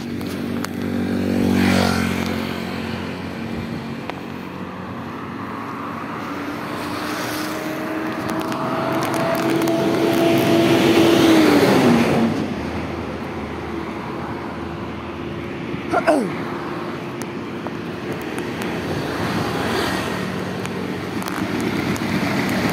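On a dark street at night, a motorcycle and other vehicles pass by one after another. Engine drone rises and falls as they approach and recede, with a rising whine near the middle and a brief sharp knock later.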